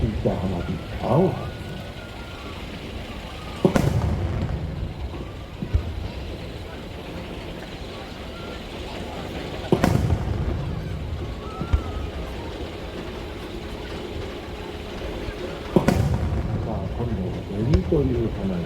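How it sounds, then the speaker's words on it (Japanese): Colored fireworks, starting with blue shells, go off at the Nagashima Onsen fireworks show: three distant thuds roughly six seconds apart, each with a short echoing tail, over a murmur of crowd voices. "ここからは色がついた花火、"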